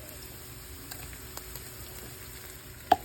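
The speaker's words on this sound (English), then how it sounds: "right now frying some onions up" Onions and minced garlic frying in a pan make a faint, steady sizzle with a few light ticks and one sharp clink near the end, quiet and close, no voices.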